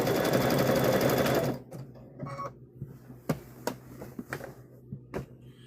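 A sewing machine stitches a heavy patchwork gnome quilt, running in one dense, continuous burst that stops abruptly and gives way to scattered clicks and taps.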